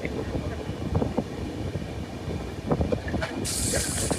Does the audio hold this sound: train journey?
yes